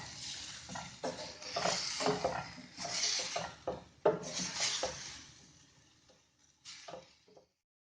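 Ground beef filling being stirred in a pan with red chilli powder, coriander, turmeric and black pepper, with scraping spoon strokes and clinks against the metal coming in irregular bursts, fairly quiet and fading out toward the end.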